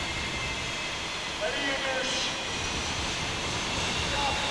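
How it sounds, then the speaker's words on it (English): A pulling tractor powered by an aircraft engine from a Whispering Giant plane roars steadily at a 1996 European tractor pulling event in the IJsselhallen, Zwolle. A commentator talks over the engine. "the engine actually comes from a plane known as Whispering Giant, hence the name of his tractor, Whispering Angel"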